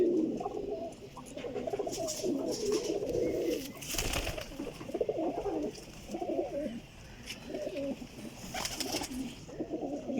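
Prized domestic pigeons coo in low, throaty rolling bursts, repeating close by with overlapping calls and some background rustle and bird noise.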